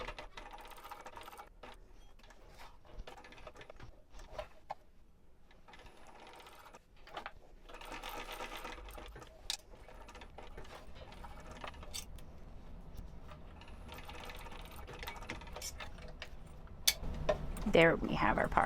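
A sewing machine backstitching a zipper pocket on a wristlet, bursts of quick mechanical stitching and clicks broken by pauses, close and fairly quiet, with a louder clatter at the end.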